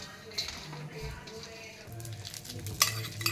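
Dry fruits such as raisins and cashew pieces roasting in homemade ghee in a pan for calcium- and protein-rich dry fruit laddoos, with a soft sizzle, stirring scrapes and an occasional clink of a utensil while someone talks.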